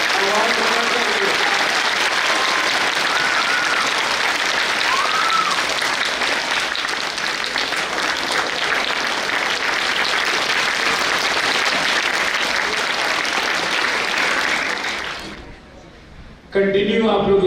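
Audience at an annual school prize distribution applauding loudly and continuously for about fifteen seconds before the clapping fades out, with brief talk at the very end.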